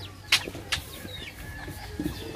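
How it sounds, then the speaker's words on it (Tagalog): A Yokohama longtail Phoenix chicken gives a few short, soft clucks and squawks over a faint rural background, with a brief flutter and low farmyard murmur. "Hunter, ito na po yung kwan natin, yung Yokohama Phoenix"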